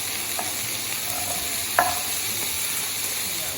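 Asparagus tips and stalks heating in a pan give off a steady close sizzle, with a single sharp utensil clink partway through and no talk.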